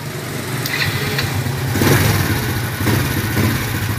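Citi motorcycle engine running steadily after a new carburetor is fitted, not yet tuned, with a continuous close mechanical drone that swells slightly in a couple of spots and no talking.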